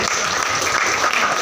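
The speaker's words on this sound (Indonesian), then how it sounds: "berikan tepuk tangan dulu ya" A classroom of students claps together for a short burst, loud and close, a dense patter of many hands with no talking.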